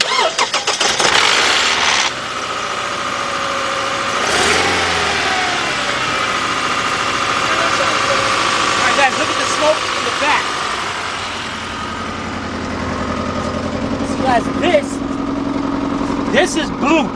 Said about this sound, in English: Let's see if we'll be able to crank that over and get it started.